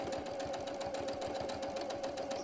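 A sewing machine runs steadily, laying a small 1/8-inch top stitch around the edge of a piece. It gives a rapid, even needle chatter with a constant motor hum, close up, with no voices.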